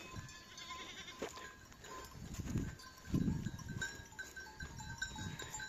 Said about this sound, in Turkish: Koyunlarımızın bir kısmı da burada.